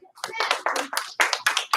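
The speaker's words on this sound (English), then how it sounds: "Give her 1 clap, 2 claps." Children clap for a classmate in a classroom, with a series of sharp, close hand claps in quick bursts over a speaking voice.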